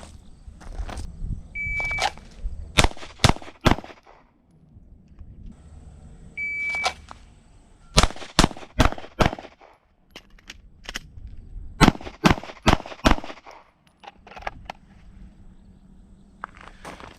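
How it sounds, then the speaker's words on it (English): Handgun fire at a law enforcement qualification course: sharp, loud shots come in quick clusters separated by short pauses for an emergency reload, with a couple of electronic timer beeps and faint shuffling between strings. "I'm going to draw, fire 4, perform an emergency reload, fire an additional 4 rounds"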